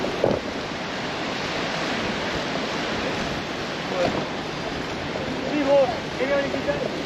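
Ocean waves break against a low sea wall, a steady roaring wash of surf with wind noise on the microphone and a few faint voices.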